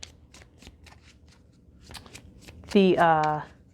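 Rapid crisp riffling of playing cards being shuffled close by, a flurry of light flicks, followed by a person speaking.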